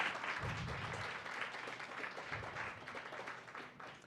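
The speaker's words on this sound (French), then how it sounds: "on peut les applaudir" A live audience claps for the event crew at an evening health and rehabilitation gathering held in a Montreal pub. The applause is steady and fairly faint, spread across the whole stretch and fading slightly toward the end.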